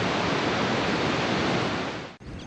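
A large waterfall rushes at relatively low water, a dense, steady roar filling the air close by, broken by a brief dip near the end.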